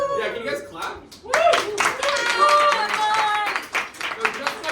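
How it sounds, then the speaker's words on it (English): A small group of friends claps and cheers together, a burst of overlapping hand claps and whoops that starts suddenly and fades out over a few seconds. "can you guys clap?"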